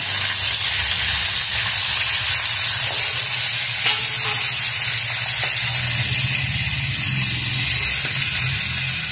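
A fish head fries in hot oil, giving a loud, continuous sizzle and hiss with steady spattering that never lets up, close to the pan and with no voices over it.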